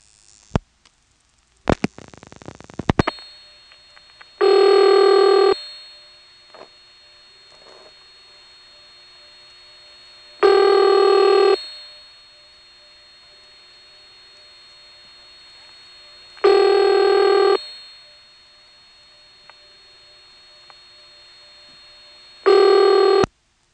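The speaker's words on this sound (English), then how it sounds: "Now we'll dial the last digit, and you'll hear the director repeating it and then dropping out." Step-by-step telephone exchange with directors, heard in the 1977 Elizabeth City, North Carolina area: a few clicks and a burst of noise, then repeating ringback tones about every six seconds, steady and loud on the line.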